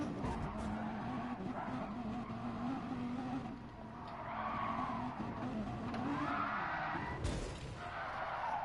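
A race car spinning out in Gran Turismo Sport, tires skidding and squealing in long sweeping smears over a steady engine drone, fairly quiet and without talk.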